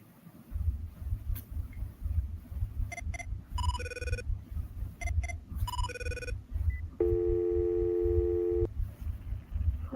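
A telephone rings with repeated electronic tone bursts and a sustained tone, fairly quiet and layered over a steady low rhythmic hum, with no voices.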